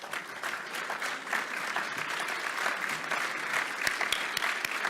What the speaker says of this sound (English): as you can tell from the round of spontaneous applause